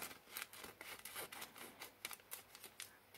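A card is cut with scissors, heard as a faint, quick series of crisp snipping clicks close by, coming in short irregular bursts.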